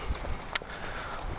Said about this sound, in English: Got some crickets.